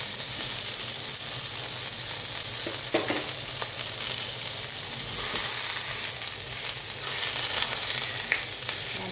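Ground beef frying in hot olive oil for tex-mex penne, a steady loud sizzle that runs the whole time with occasional scraping stirs from a utensil.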